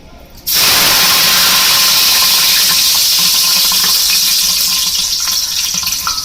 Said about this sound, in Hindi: देखिए तेल गरम हो चुका है, अब उसमें डालेंगे सबसे पहले लहसुन